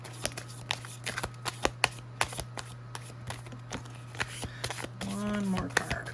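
Tarot cards are shuffled by hand at close range, a run of crisp riffling snaps and flicks with a short cascading riffle near the end, while a person talks quietly.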